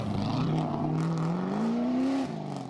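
A rally car on a 2014 Sydney to London Marathon run, its exhaust revving through a tight British forest stage. The loud, close engine note climbs steadily in pitch for about two seconds, then drops away abruptly.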